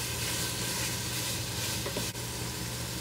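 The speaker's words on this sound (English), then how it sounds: "Now sausage is already cooked. All we're doing is getting a little sear on it." Sausage sears in a Ninja Foodi with a dense, even sizzle that holds steady throughout, plus one brief scrape near the end, no voices.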